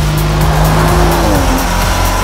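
An Audi RS5 accelerates hard on the Buddh International Circuit, its engine note rising loud and close through several quick gear changes.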